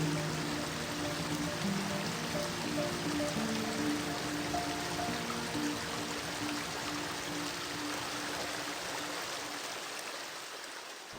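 Rushing river rapids in Sweden roar in a steady, dense wash of water that stays loud and close throughout, easing slightly toward the end, with no voices.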